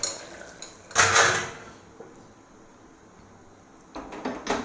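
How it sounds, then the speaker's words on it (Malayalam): A cheenachatti, a Kerala iron wok, is set down on a stove with a sharp metallic clank, followed by softer kitchen clatter and a few more knocks toward the end, all with no voices. "അതിനായിട്ടൊരു ചീഞ്ചട്ടി അടുപ്പത്ത് വെച്ചു"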